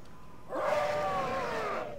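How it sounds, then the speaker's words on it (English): A Worgen roar in World of Warcraft, a single short, rough growling cry lasting over a second, moderately loud and heard alone. "I'm going to show you the Worgen roar."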